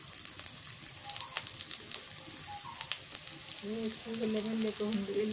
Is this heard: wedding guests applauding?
no